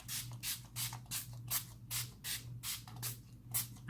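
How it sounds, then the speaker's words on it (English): Wet n Wild Photo Focus Natural Finish setting spray misted from a pump bottle onto a face, about a dozen quick close hissing puffs in a steady rhythm. "And I'm going to use my setting spray."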